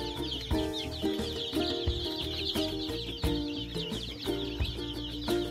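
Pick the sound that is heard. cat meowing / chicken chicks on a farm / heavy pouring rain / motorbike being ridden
chicken chicks on a farm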